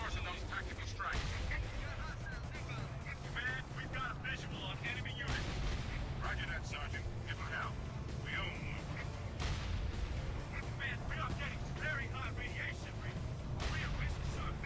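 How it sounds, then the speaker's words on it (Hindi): Repeated heavy booms of a tank cannon in the video game Frontlines: Fuel of War, Graveyard map, mixed with dense gunfire and battle noise, loud and continuous throughout while a voice talks over it. "जैसे हम एक तोप का गोला छोड़ते हैं"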